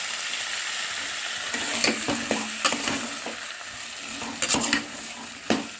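Tomatoes sizzle and fry in a pan for a curry, with a steady hiss broken by several sharp scraping stirs and light clinks of a utensil against the metal, close and clear with no voices.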